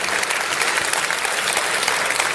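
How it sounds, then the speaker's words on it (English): Audience at a Star Trek convention opening ceremony in Germany applauding steadily, a dense, even wash of clapping from a large crowd with no break. "Give them a round of applause."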